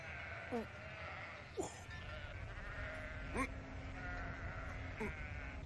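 Sheep bleat outdoors in a rural Turkmen setting, four separate calls spaced a second or two apart over a steady background hum.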